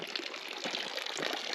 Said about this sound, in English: The water's just barely coming up over the edge of the tank, and of course the dirt's not sealing, so it's running out over.